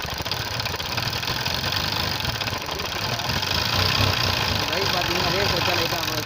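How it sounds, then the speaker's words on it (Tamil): A Bajaj Discover DTSi motorcycle engine runs steadily and loud up close, a continuous rough idle with a slight rise in revs partway through, no voices over it. "இப்போ பார்த்தீங்கன்னா பைக் ஸ்டார்ட் பண்ணியாச்சு."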